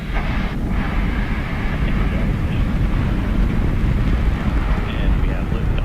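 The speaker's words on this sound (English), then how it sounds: "And we have liftoff." A rocket lifting off at the Perseverance launch, a loud, continuous broadband roar with a wind-like rumble that holds steady and distant throughout.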